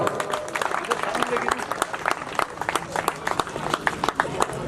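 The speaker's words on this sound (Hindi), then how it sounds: "ताली बजाओ" A village gathering breaks into applause, many hands clapping in a steady, fairly close patter with some crowd voices underneath.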